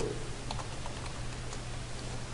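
Rapid, close typing on a computer keyboard, a run of light irregular key clicks over a constant low electrical hum.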